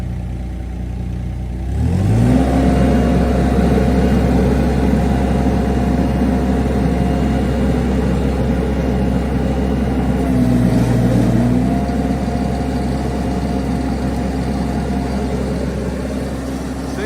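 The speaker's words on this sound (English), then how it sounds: "I'll have to do that at full throttle, so I'll crank it up and show you guys" Skid steer loader engine cranked up to full throttle, a loud steady mid-pitched roar that jumps up after a brief quieter start and holds near, with a slight shift partway through.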